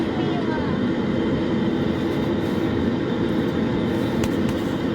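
A Concorde's jet engines roar steadily during the takeoff roll, a loud, dense rumble that fills the cabin, with crew voices calling out over the noise.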